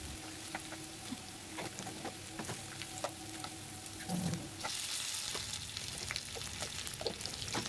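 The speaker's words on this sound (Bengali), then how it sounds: "শুকনো লঙ্কা, তেজপাতা, পেঁয়াজ বাটা এবং আদা বাটা। এটাকে হালকা ভাজতে ভাজতে" Onion paste and ginger paste fry with dried chili and bay leaf in a pan, a steady close sizzle broken by scattered spoon scrapes and clicks, with a louder burst of hissing toward the end.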